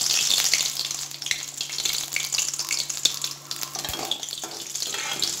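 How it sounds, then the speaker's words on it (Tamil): Urad dal and mustard seeds frying in hot oil, a steady close crackling sizzle with scattered pops that runs the whole time without a break. "உளுந்து சவக்கிற வரைக்கும் கொஞ்சம் வறுத்துட்டு"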